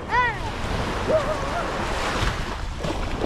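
Sea waves wash steadily onto the shore at a beach resort in Zambales, a continuous rushing surf mixed with gusty wind noise, with brief voices in the background.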